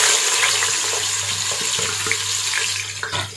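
Two medium onions, finely chopped, hit hot oil for an achar gosht curry, giving a steady, close, hissing sizzle throughout with no speech.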